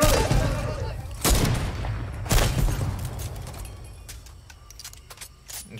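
Gunfire in a tactical shooter video game, with two loud bursts of shots early on, then scattered sharper cracks fading over a steady low rumble; a voice talks faintly underneath.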